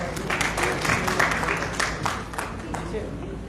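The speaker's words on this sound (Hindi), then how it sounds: "जोरदार ताली एक बार से।" Audience applause at a stage event in Jammu swells and fades in bursts of clapping, fairly close, with a crowd murmur and some talking mixed in.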